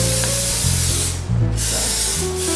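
Oil spray hissing from a can onto a baking pan in a home kitchen: a loud, close, continuous spray with a brief break midway before resuming.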